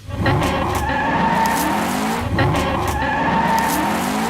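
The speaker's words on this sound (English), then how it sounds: "And the second thing is the exhaust note. Take a closer listen." A 2019 Shelby GT500 pulls away with a loud, continuous exhaust roar close by, the engine note rising and falling with tire squeal over it, and no voices.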